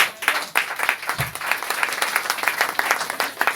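A church congregation claps and cheers to acclaim the Lord during a sermon, a lively burst of many hands that holds steady throughout, fairly loud and close.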